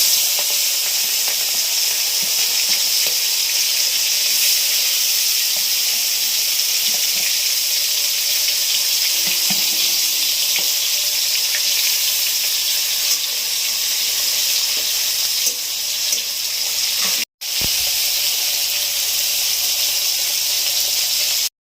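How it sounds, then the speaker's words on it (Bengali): Prawns fry in hot oil in a wok, giving a steady, loud, close sizzle and hiss that runs unbroken for about twenty seconds, with a brief dropout near the end and no talking. "এবারে চিংড়ি মাছগুলো আমি ভেজে নিচ্ছি।"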